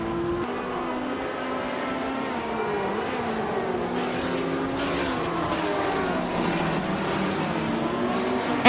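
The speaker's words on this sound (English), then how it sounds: "Bjorn Art is driving the legendary Porsche 91720, starting in 9th place" A Porsche 917 race car roars through a racing video game, engine droning steadily with pitch rising and falling through gear changes, loud and close with no voices.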